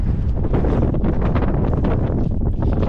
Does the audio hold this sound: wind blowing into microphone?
yes